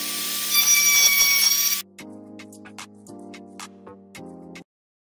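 A high whine gives way to a cordless power drill whirring in several short bursts, with small ticking and grinding clicks as it bores a hole into material.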